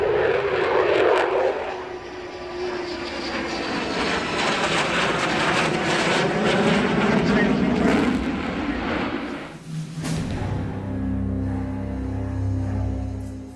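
An F-15 fighter jet with engines of over 50,000 pounds of thrust roars loud and steady, a broad sustained rush that shifts in pitch as it passes, then drops to a lower rumbling drone near the end.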